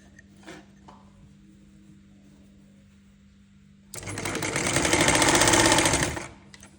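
A sewing machine stitches a seam in cloth, a loud, fast mechanical whirr bursting in after a few seconds of near quiet with a faint hum and small clicks, running for about two and a half seconds before stopping.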